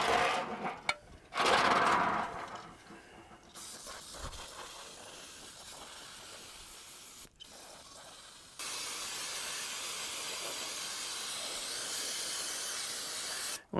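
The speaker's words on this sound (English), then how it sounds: "We'll just hit it with some brake clean and get it degreased" Brake cleaner aerosol sprays onto axle parts to degrease them in hissing bursts, with a short loud blast early on and then a long steady spray that grows stronger toward the end.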